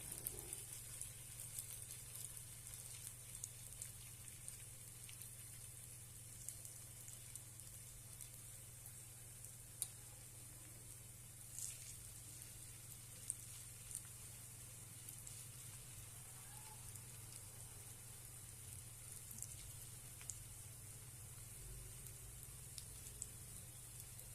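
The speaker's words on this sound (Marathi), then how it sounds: "छानपैकी आता आपण दोन्ही बाजूने खरपूस असे भाजून घेऊया।" Mung dal and bottle gourd patties with sesame seeds shallow-fry in a pan, giving a faint, steady, even sizzle with no breaks.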